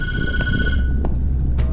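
A telephone rings in the Tattletail video game, its steady electronic trill sounding loud and close, with sharp clicks at intervals and no voices.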